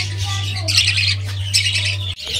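Pet parakeets, crested and red-eyed birds kept in a backyard aviary, give repeated harsh squawks and chatter close by, with a steady low hum running underneath.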